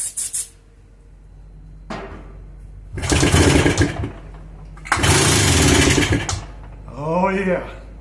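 A 1997 Polaris Sportsman 400 4x4 ATV, long left sitting and now fitted with a new carburetor, is cranked in two long loud bursts, then catches briefly and revs unevenly before settling, close to the microphone.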